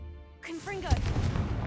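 Spell-cast explosion blasting apart a rock wall in a Hogwarts video game, a single loud boom arriving suddenly after brief whooshing magic tones, followed by rumbling debris.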